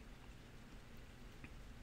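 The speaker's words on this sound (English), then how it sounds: "Oh, it's raining outside too." Steady rain falls outside, a soft continuous patter with no voices, distant and fairly faint throughout.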